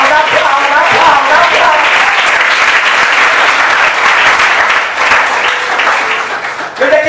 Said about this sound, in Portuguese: Quem vive aqui, aplauda, aplauda, aplauda, aplauda, aplauda, aplauda